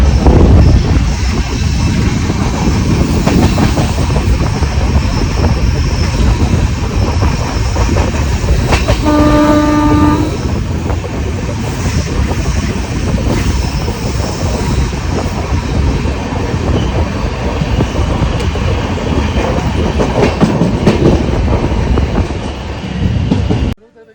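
Goa Sampark Kranti express train running steadily as it approaches Ratnagiri station, with continuous loud rumble and rattle of rail cars and a short horn blast partway through.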